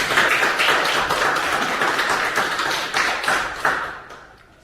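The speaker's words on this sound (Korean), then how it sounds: "우리 모두를 위해서 한번 박수 한번 하도록 하겠습니다" A church congregation claps together in dense, sustained applause, steady and close for several seconds before tapering off toward the end.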